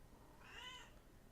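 A single faint, drawn-out cat meow rises and falls over low background hiss.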